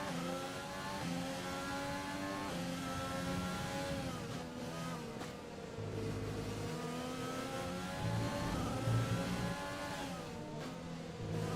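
Formula 1 car engine from the F1 2020 game at the Austrian circuit, a steady high-pitched whine with rising and falling pitch sweeps as it shifts and overtakes, loud and continuous throughout.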